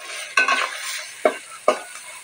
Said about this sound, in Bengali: মশলাটা ভেজে নিই, দিব আদা রসুনের পেস্ট, ভালো করে মশলাটা কষিয়ে